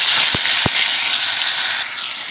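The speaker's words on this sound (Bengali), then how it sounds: "আমার কড়াইয়ে তেলটা গরম হয়ে গিয়েছে, আমি এক এক করে মাছগুলো ভেজে নেব।" Fish fry in hot oil in a kadai, a loud continuous hissing sizzle up close, broken by two short sharp clicks near the start.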